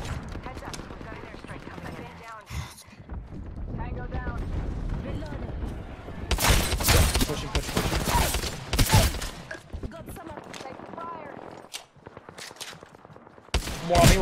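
Shotgun blasts in the video game Apex Legends come as a cluster of loud, sharp bangs in the middle and a few more near the end, amid other game noise, with a player talking throughout.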